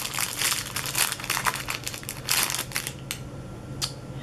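Paper wrapping crinkles and crumples close up as a wrapped shoe-shaped Christmas ornament is opened, a busy run of rustling that thins out into a few separate crackles near the end.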